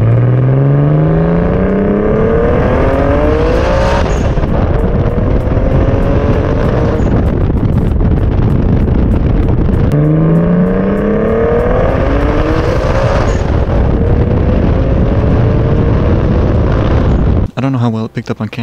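An LS2-swapped Nissan 240SX off-road car is driven hard under boost, its engine revving loudly through repeated rising pulls and gear changes, each climb followed by a drop, close and dominant for the full length.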